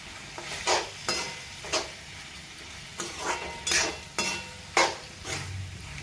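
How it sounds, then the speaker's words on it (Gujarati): Pasta stirred through cooked vegetables in a pan, a spoon scraping and clinking in a steady series of about eight strokes over a soft sizzle, close and moderately loud with no talking. "પાસ્તા એડ કરીને આ રીતે આપણે મિક્સ કરી લઈશું"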